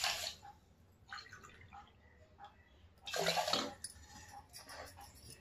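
Water from a glass pours into a cooking pot holding pigeon peas (kandi pappu), heard as bursts of splashing and trickling, with a louder gush near the middle, no talking.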